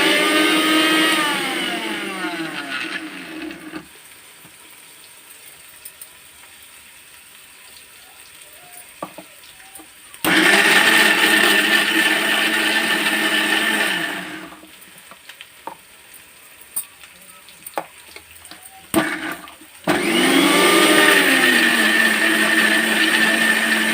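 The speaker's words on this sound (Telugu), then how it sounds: "నేను ఇప్పుడు ఇది మిక్సీ పడతాను." A kitchen mixer grinder whirs loudly as it blends spinach leaves with salt into a paste for palak paneer. It runs in three bursts of about four seconds each, with quieter pauses and faint clatter between them.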